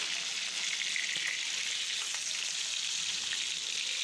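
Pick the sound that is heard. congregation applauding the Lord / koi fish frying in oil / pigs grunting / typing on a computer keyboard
koi fish frying in oil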